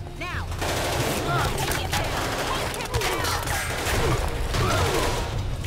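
Tranquilizer dart gunfire in the video game Marvel Ultimate Alliance 2 on PS3, a dense run of rapid overlapping shots and bursts layered with game effects for several seconds.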